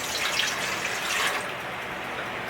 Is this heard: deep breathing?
no